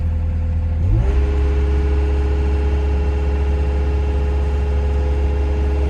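A heavy machine's engine turns over and catches after a fuel problem is fixed, then runs steadily at a loud, even drone close by.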